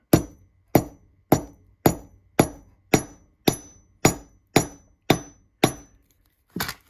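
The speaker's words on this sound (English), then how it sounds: "when I pulverize it on this anvil with a hammer, it stays in one place" Hammer blows land on quartz chips sealed in a plastic sandwich baggie on a metal anvil, ten sharp strikes at a steady, evenly spaced rhythm, each ringing briefly and decaying, close and loud with no talking.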